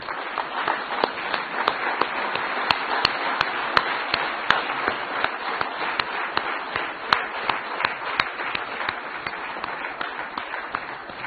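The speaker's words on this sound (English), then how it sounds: "please stand in applause to Professor Yashasvi" Steady, sustained applause from a standing audience at an ICFAI gathering honouring Professor Yashasvi, dense clapping with a few sharper individual claps standing out, continuing evenly throughout.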